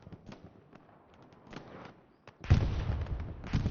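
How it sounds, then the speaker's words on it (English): Artillery fire during a World War II shooter match: faint distant thuds and crackles at first, then a loud close barrage of blasts with rumbling decay. "The artillery actually aimed on the OP that the Americans have here. Very precision artillery"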